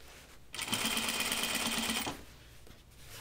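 A sewing machine stitches denim for jeans in one burst of about a second and a half, a rapid, close mechanical chatter that starts and stops abruptly against quiet room tone.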